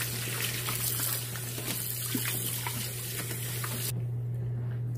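Hot water with LA's Totally Awesome cleaner is agitated in a sink, giving a steady broadband watery swish over a constant low hum. The washing sound cuts off abruptly near the end, leaving only the hum.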